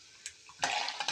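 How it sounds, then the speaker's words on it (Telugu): Tempering spices stirred in a pan: a faint spoon scrape is followed by quiet bursts of sizzling hiss that swell and pause, heard up close at low volume with no talk. "తాలింపు బాగా యాగాలి"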